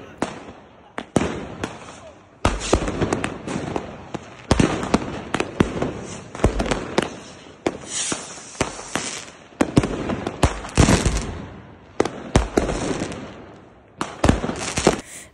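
Fireworks and firecrackers bursting in rapid irregular volleys on a New Year night, loud sharp cracks and bangs crowding one after another, with crackling fizz between blasts.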